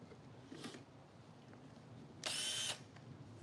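A Forstner bit drills into wood on a beginner birdhouse project, giving a short, loud, high whine of about half a second against quiet room noise, preceded by a brief fainter buzz.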